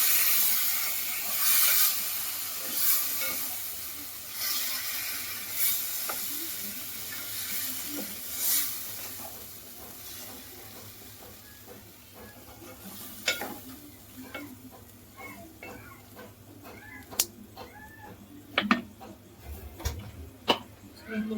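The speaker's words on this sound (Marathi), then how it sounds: "तुम्ही व्यवस्थित मिक्स करून घ्या हलक्या हाताने" Paneer tikka masala being stirred and mixed by hand in a pan, with a steady sizzle and frying hiss underneath and scattered clinks and scrapes of the spoon growing sharper toward the end.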